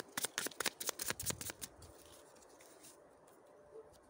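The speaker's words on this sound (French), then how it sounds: "Et je vais tirer une troisième carte ici" Playing cards are drawn from a deck with a quick run of crisp flicking and riffling snaps for about a second and a half, close and fairly quiet, and then it falls nearly silent.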